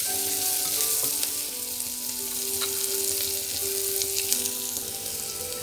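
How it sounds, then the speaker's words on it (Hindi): Onions sauté in a pan for tomato soup, a steady loud sizzle with occasional stirring scrapes, close and continuous with no voices. "देखिए प्याज हमारे सॉटे हो गए हैं"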